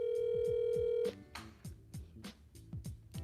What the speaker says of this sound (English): Better answer this phone, Sharice.